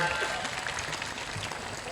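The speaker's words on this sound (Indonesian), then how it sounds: "tepuk tangan" An audience claps during a political speech in Cirebon, a dense burst of applause with a murmur of voices mixed in, fairly loud throughout.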